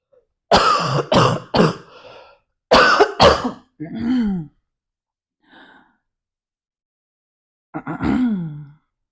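A person with a lingering cough hacks in several harsh bursts, then clears the throat and groans, with brief pauses of silence between the fits, close and loud.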